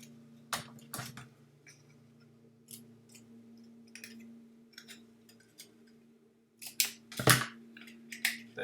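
Scissors snip paper for a convention sign, with a few crisp, separate cuts early on and a quick louder cluster near the end, all over a steady low room hum.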